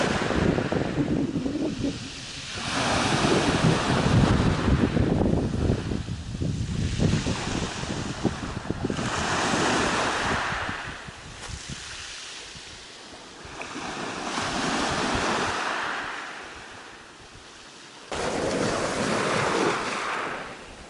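Sea waves breaking on the shore at Olympos beach, several surges of rushing surf rising and receding in slow rhythm, mixed with wind buffeting the microphone.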